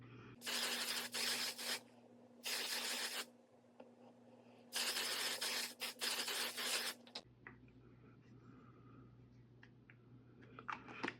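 An aerosol can hisses out in several long close bursts, separated by short pauses, before the room falls quiet with only a low background hum.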